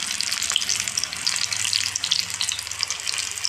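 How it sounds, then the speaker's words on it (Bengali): Pakoras fry in hot oil in a pan over a gas flame turned down low, giving a steady, close, hissing sizzle with fine crackles and no talking. "ভাজার সময় তেলটা গরম করে নিয়ে একদম গ্যাসটাকে স্লো করে দেবে"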